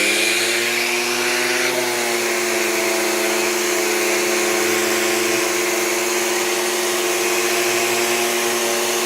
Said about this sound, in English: And now I'm going to turn the sander on.